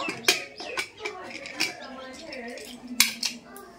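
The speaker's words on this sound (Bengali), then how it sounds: "এরপর ঢাকনাটা খুলে নেব।" A metal pressure cooker lid is lifted off the pot on a lit stove, giving a few sharp metallic clicks and clanks spaced over a few seconds, with a soft voice murmuring underneath.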